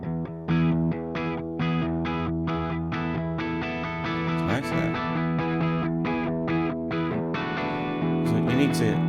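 Distorted electric guitar, a Gibson Les Paul Studio on both pickups with volume and tone maxed, played through an amp simulation plugin: loud, steady chugging chords with effects-laden sustain, ringing alone without talk.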